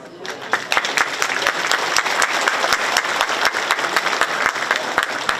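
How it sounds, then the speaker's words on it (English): A crowd applauds steadily, a dense patter of clapping with a few sharp individual claps standing out throughout. "So I give my applause"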